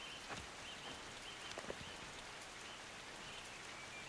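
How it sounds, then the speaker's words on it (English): Pouring rain in the video game Norland: a steady, soft hiss of dense rainfall fills the scene, with a few faint drips and taps and no voices. "It's pouring right now"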